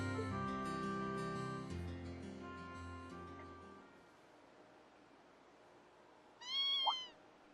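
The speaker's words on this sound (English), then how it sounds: "What's a kitten doing here?" Kitten meowing in the video game Trails of Cold Steel 2, a short high rising-and-falling mew near the end after a stretch of layered game music fades, standing alone and fairly close.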